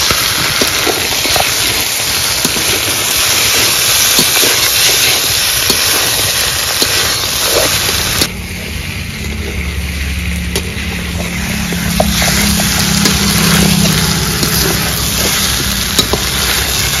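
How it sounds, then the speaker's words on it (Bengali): Soybean chunks and meat frying in a pan on the stove, stirred with the lid lifted; a steady close sizzle and hiss with scattered light scraping and clinks throughout, no voices. "এবার ঢাকা তুলে একটু নেড়ে নেব।"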